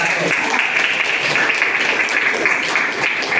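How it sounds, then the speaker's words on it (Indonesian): A classroom audience applauds a student group after its presentation, a dense burst of clapping that carries on steadily throughout with some voices mixed in. "Aplaus untuk kelompok"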